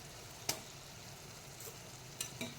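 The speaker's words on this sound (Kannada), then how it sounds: "ಇದನ್ನು ಸಹ ಚೆನ್ನಾಗಿ ಹುರಿಯುವ." A peanut and tomato mixture with salt and turmeric fries quietly in a pan, a faint low sizzle punctuated by a few sharp spoon knocks, one early and two near the end.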